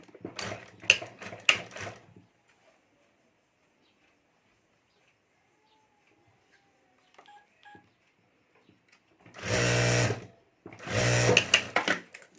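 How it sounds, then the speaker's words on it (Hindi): Sewing machine stitching the lining onto the zip of a handmade clutch bag: a short burst of rapid stitching, a quiet pause with faint handling noises, then two more loud runs of stitching close by. "तो यहाँ ऊपर मैं सिलाई कर देता हूँ।"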